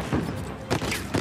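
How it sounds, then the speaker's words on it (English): Gunfire in Uncharted 4, a quick burst of shots with sharp broadband cracks and thumps, fairly loud over a busy game background. "Let's stop with the shooting."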